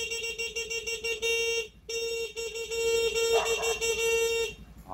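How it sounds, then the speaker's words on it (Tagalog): A Motorstar 115 motorcycle horn honks in long, steady blasts, broken by a brief pause near the middle, loud and close, over a low idling engine. "Okay, tapos busina."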